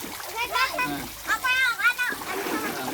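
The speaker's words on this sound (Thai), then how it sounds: "เด็กๆเล่นน้ำกับพ่อจ๋าหลังเลิกงาน" Children splash and play in water with their father after work, with bursts of splashing mixed with excited kids' voices and shouts over a few seconds, close by.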